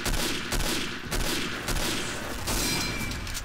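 Gunfire crackles in the video game Day of Defeat, loud rapid bursts of shots repeating every second or so over a dense battle din.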